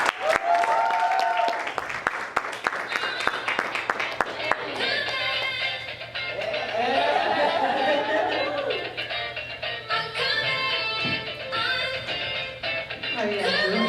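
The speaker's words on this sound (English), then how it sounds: "You guys put your hands together for the next menacing gift" Audience applause and chatter at a live speaking event, building after a few seconds into sustained clapping that fills the room, with voices mixed in throughout.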